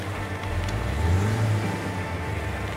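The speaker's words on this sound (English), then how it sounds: "Look at him driving flat tires." A car in the off-road video game Little Colorado drives on flat tires, giving a steady low engine drone with a rough rumbling under it, continuous and moderately loud.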